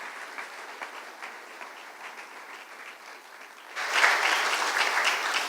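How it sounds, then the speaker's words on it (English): Audience at a business event applauding their chairman: a soft, thin round of clapping that suddenly swells into louder, fuller applause near the end. "can we have a more generous applause for our chairman"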